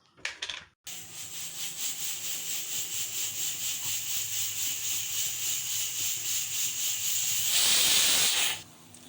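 A pressure cooker cooking chickpeas hisses out steam in a rapid, pulsing rhythm after a brief opening burst, then swells into a louder, sharper whistle near the end before cutting off.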